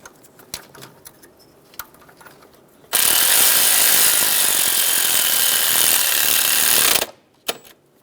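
A power tool snugs down the throttle body bolts on a 2007-2011 Toyota Camry 2.4L four-cylinder: one loud, continuous whirring burst of about four seconds, with quiet clicks and taps from the work before and after.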